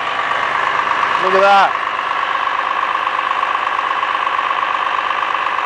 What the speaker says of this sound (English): Back here, we got that Cummins ISM coming along here.